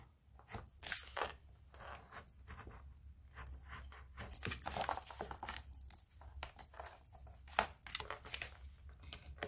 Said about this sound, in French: il faudra juste que je coupe autour